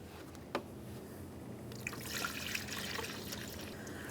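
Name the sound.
coolant poured through funnel into Honda Civic radiator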